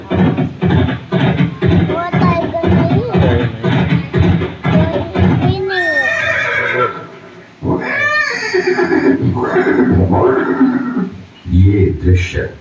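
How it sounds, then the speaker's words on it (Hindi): Horses neigh and whinny loudly in a Haldighati museum display scene, several calls with descending pitch sweeps rising over steady talk and background chatter. "देखो हॉर्स आ गए।"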